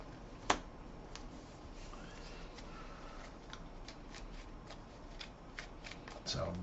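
Arkham Horror LCG cards shuffled into a deck on a tabletop, soft riffling and flicking with a sharp snap early and a louder shuffle at the end, quiet and close.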